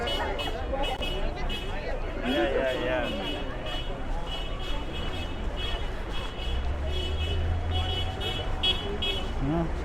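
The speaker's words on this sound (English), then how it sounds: "That car is doing a whole lot of beeping." A car horn toots again and again in a busy street in Seattle's Chinatown-International District during a Stop Asian Hate rally, mixed into traffic noise and the chatter of a crowd, with people talking nearby.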